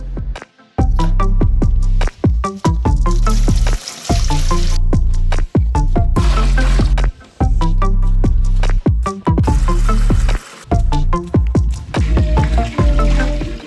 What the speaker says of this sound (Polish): Więc teraz zapraszam Was na małe tournée z jeszcze dolewaniem troszeczkę wody.